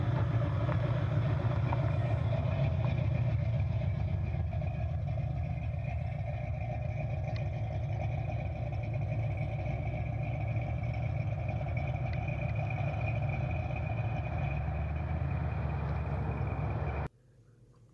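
A 1969 Camaro Z28 Pro Touring V8 runs at a steady idle nearby, a deep continuous rumble that holds evenly before cutting off abruptly near the end, with no talking.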